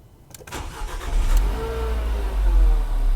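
A Dacia Duster Mk1 with the 1.2 engine cranks briefly and catches, then settles into a steady, close idle with a low, even hum and no voices.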